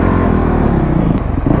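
A 150cc dirt bike engine drones loud and close as it is ridden, a steady, continuous motor sound throughout the short stretch.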